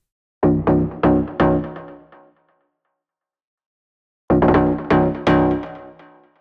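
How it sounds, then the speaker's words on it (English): A deep, fat donk bass preset from the Serum 2 synthesizer plays two short phrases of punchy, bouncy notes, each phrase three or four hits long, separated by a gap of silence, with no voices. "Which is a really deep and fat donk bass"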